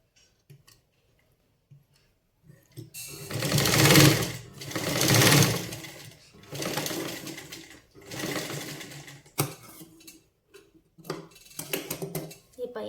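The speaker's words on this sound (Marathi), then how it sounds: "तुम्हाला शिलाई मारून दाखवते इथं." Sewing machine stitching a blouse shoulder seam, running in several loud bursts of rapid mechanical rattling separated by short pauses, close up, with someone talking in between.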